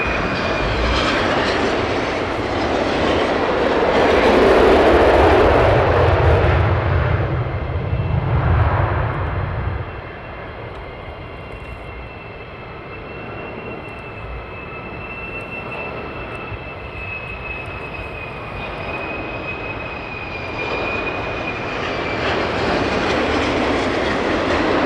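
A military jet makes a low approach at RAF Lakenheath: a loud, roaring engine rumble swells as it passes close, then eases into a steady, whining drone with a high tonal whine holding on as it moves off.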